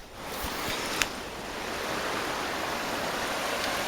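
Creek water on the Washougal River flows in a steady, full rush close by, with a couple of faint clicks near the start and no talking.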